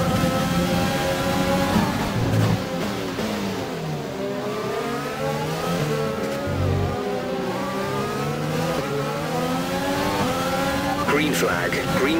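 Race cars accelerate hard at Silverstone after a green flag, several engines revving and shifting in overlapping whines that sweep up and down continuously, with a voice speaking over the engine noise.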